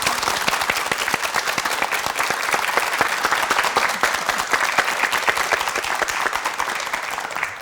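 Dense, steady applause from a studio audience on a Korean morning talk show, loud and continuous throughout with no talk over it.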